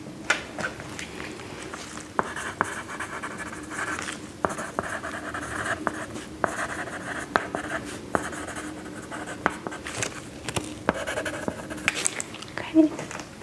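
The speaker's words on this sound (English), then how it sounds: "Just gonna go ahead and write that down." A pen scratches across paper in short, close strokes with soft pauses, mixed with light rustling and handling sounds during a quiet, soft-spoken bedside medical check.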